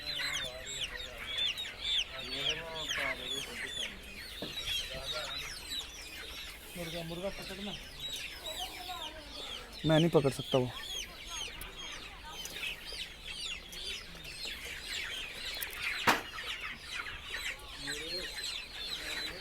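Chickens and young chicks cluck and peep continuously inside a poultry shed, with a few louder squawks and flutters, while someone speaks briefly.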